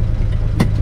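A Daihatsu Hijet 1000 engine hums low and steady as it pulls away, close and continuous, with a brief broadband rush near the end.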